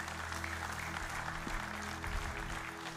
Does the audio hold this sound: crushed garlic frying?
no